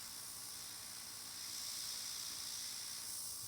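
Airbrush spraying Airnails paint over a nail stencil, a faint steady airy hiss that swells slightly midway and continues evenly.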